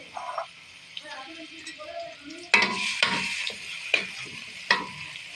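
Oil-coated bharta mash is stirred in a pan, with a few sharp scraping strokes against the metal over a faint background sizzle, the strokes coming at irregular intervals after a quiet start.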